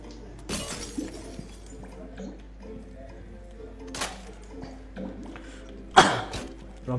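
Glass shatters as objects are smashed in a video game, with one sharp crash near the start, another about midway and a bright, loud burst toward the end, over faint background game noise.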